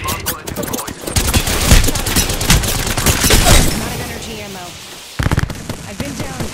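Loud automatic gunfire in Apex Legends rattles in rapid bursts, with a dense barrage over the first four seconds, a brief lull, then another close burst of shots.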